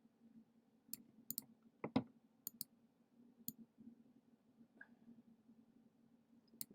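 Sharp, isolated clicks of a computer mouse sound at an irregular pace over a faint steady hum, quiet and close, with no speech.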